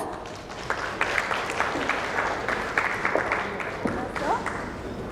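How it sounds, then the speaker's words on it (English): Applause from the audience at an insurance industry summit and awards ceremony in India, a steady wash of clapping with crowd murmur and some voices mixed in, moderately loud throughout. "Please welcome with a huge round of applause."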